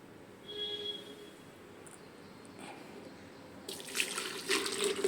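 Watermelon juice is poured into a hollowed-out watermelon shell, a faint, quiet stretch followed by a short burst of splashing liquid in the last second or so.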